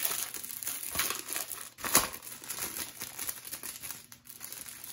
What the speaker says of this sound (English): This is the release paper that you can use.